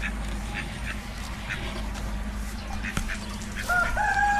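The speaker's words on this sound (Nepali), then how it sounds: "के चरा हो यो? हाँस जस्तै छ त।" Ducks quack and fowl call in a park over a steady outdoor background, moderately near, with a few short calls scattered through.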